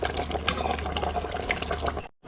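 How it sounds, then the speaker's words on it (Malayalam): Liquid is poured steadily over pieces of giant trevally fish head in a curry pot, a close, continuous splashing trickle that stops abruptly near the end. "മീനിൻ്റെ മുകളിലോട്ട് ഒഴിച്ചു കൊടുക്കുക."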